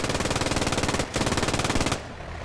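A machine gun on the flank in a wartime video game fires two long, rapid bursts, loud and rhythmic, with a brief pause between them. Quieter background noise follows.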